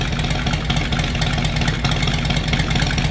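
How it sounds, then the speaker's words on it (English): A 2018 Harley-Davidson Heritage Softail with a Stage 2 Milwaukee-Eight 114 engine idles warm through Bassani True Duals exhaust. The idle is a loud, close, steady lumpy thump with no talking over it. "And this is already warmed up, so this is a warm idle"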